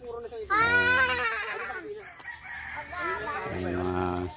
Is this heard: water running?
no